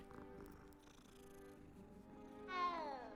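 A cat purrs in the video game Hogwarts Legacy while being petted, a soft close rumble that ends with a short rising meow.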